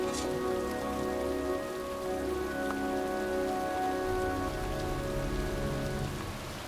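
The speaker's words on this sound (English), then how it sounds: "It's cold. It's raining." Rain falling in the video game Heavy Rain, a steady, even patter pouring onto surfaces outdoors, accompanied by sustained low tonal music that shifts partway through and continues beneath the downpour.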